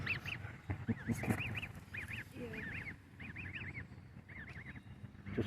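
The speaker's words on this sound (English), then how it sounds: "did you think that was one of the other geese calling you?" Geese at a nature park give repeated short honking calls in quick bursts, close and moderately loud, with brief pauses between groups of honks.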